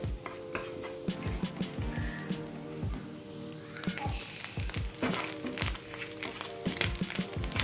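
Grated coconut roasting brown in a pan, stirred steadily with scraping, sizzling and crackling, close and moderately loud with no voices.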